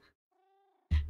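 A short, faint meow-like tone from a Minecraft cat fades out, then a loud, broadband low thump or burst from the game cuts in abruptly at the end.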